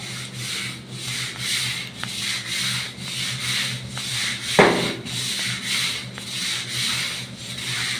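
A bathroom being scrubbed by hand, a steady rhythmic back-and-forth rubbing with about one stroke per half second, close and fairly loud, with a single sharp knock midway and no talk.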